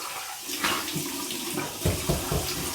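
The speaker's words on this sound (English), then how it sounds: "here's my cold water rinse." Cold tap water runs and splashes as a face is rinsed after a shave, close and continuous with several louder splashing bursts toward the end.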